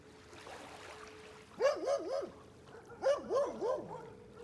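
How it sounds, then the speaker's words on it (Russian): Dogs bark near a small pine-lined Mediterranean beach on the Saronic Gulf, two quick bursts of three or four sharp, fairly close barks separated by a short pause over a faint outdoor background. "лающими собачками"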